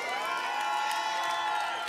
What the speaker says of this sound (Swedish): En stor applåd på dig själva!